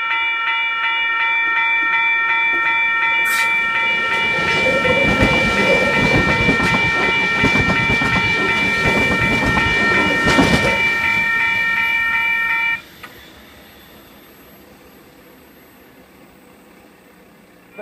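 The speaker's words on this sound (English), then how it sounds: "Here we have a V-set about to pass the platform" A Sydney V-set electric passenger train rushes past a platform at Wondabyne with a rising whoosh and rattling wheels, accompanied by a steady high whine that cuts off abruptly, leaving quiet.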